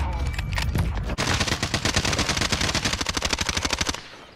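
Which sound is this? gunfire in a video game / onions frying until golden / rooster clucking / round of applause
gunfire in a video game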